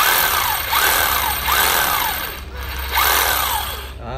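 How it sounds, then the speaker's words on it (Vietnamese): 24V cordless hammer drill from Nati running in hammer mode, a loud close buzzing rattle with the motor winding up and down in about four repeated bursts, no talk. "gặt xuống là khoan búa nè"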